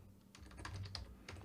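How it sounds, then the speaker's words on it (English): Quiet typing on a computer keyboard, a short run of uneven keystrokes clicking close by with no one speaking. "Having trouble typing again."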